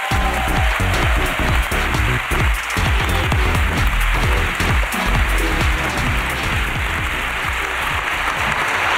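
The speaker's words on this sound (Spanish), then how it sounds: "Aplauso para Alex, por favor" A live podcast audience applauds, dense, loud and continuous clapping heard from within the crowd, sounding close and steady throughout.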